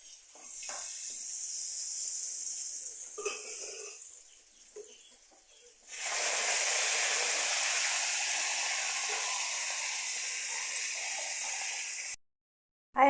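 Tempering of peanuts and spices for tamarind chutney sizzles in hot oil, a loud steady hiss that swells louder midway and holds until it cuts off near the end, with no talking.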